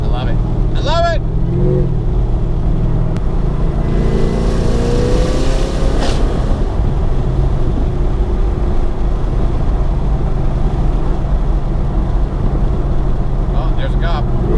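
Whipple-supercharged car engine driving, a loud constant low drone and road roar from inside the cabin, with brief voices and occasional whine over it.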